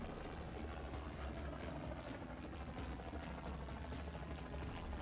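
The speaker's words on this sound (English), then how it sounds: "Ooh, I got a helicopter!" A helicopter in the video game Renegade Ops drones with a steady, dense rotor and engine roar, faint and continuous throughout without pauses.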